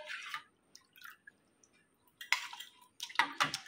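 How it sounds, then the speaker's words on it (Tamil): A metal puja plate is set into water to soak, giving soft drips, light sloshes and small clinks in short separate bursts with quiet gaps between them, close by and gentle. "ஸோ இப்போ நான் ஃபஸ்ட்டு தட்டை போட்டு நான் க்ளீன் பண்ணி காமிக்கிறேன்."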